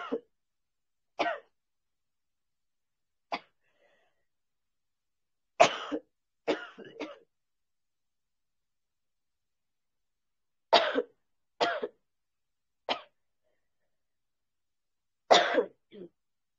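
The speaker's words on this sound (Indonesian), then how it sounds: "mohon maaf karena sedang batuk" Repeated dry coughs and throat-clearing from one person, about nine short bursts spaced irregularly with quiet gaps between, close and fairly loud, no talking.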